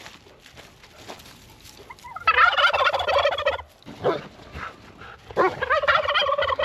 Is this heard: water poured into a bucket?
no